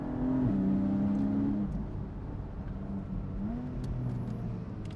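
A Porsche 718 Boxster GTS 4.0 pulls hard, its engine note climbing in a smooth, steady rise before easing back and building again under a constant rumble of road and wind.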